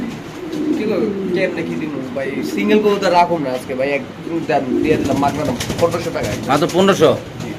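A male Mundian pigeon coos in repeated low throaty bursts, close by, with people talking over it.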